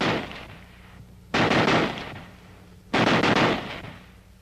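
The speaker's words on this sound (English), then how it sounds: "Or, if you flick this change lever, you can fire at the full automatic rate." Browning Automatic Rifle M1918A2 firing full automatic in two loud, close bursts of rapid shots, each about a second and a half long, separated by a short pause with echoing decay.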